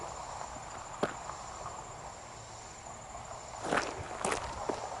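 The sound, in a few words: horses walking through a stream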